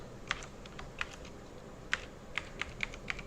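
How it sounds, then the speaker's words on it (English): Keystrokes on a computer keyboard while entering Python code: about eight crisp, close clicks spaced irregularly over a quiet room hum, with no voices. "I am just typing hello world, then close it"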